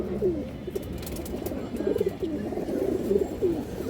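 Pigeons of a high-flyer breed coo repeatedly in low, throaty rolling phrases, close by and steady over a busy background, with no speech heard.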